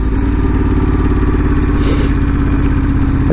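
Motorcycle engine running steadily while riding, a loud continuous low throb with a slight rise in the middle, close up and alone with no talking.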